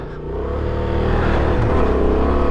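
A Honda Transalp 750 motorcycle engine accelerating off-road, a loud, close, steady drone whose pitch climbs gradually as the revs build over a couple of seconds, with no talk.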